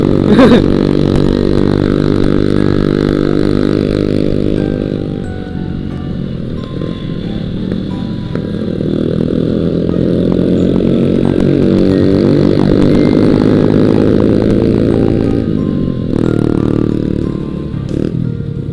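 A motorcycle with a loud aftermarket exhaust rumbles close by on a Sunday ride to Puncak Sukabumi, its engine note rising and falling steadily for nearly twenty seconds, with faint clatter.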